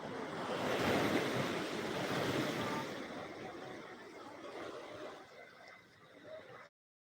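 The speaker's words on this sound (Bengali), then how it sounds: "গার্ডওয়ালের উপর আছড়ে পড়ছে শয়ে শয়ে ঢেউ" Waves from the sea crash onto the guard wall at Digha beach, a loud churning surf roar with wind noise that surges early, then eases into softer rolling washes before cutting off.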